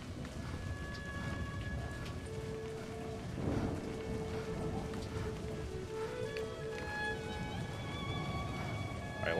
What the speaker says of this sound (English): Every single time it's raining when I do this.